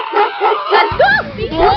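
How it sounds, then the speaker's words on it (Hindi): A dog gives short yipping barks and whines close by, mixed in with excited voices talking and shouting over it. "बचाओ मुझे इस कुत्ते से।"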